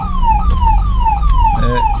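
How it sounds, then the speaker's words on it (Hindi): An ambulance siren wails on a Delhi road, its loud falling sweeps repeating about every half second over a steady rumble of traffic. "मैं पहले एम्बुलेंस को साइड दे रहा हूँ"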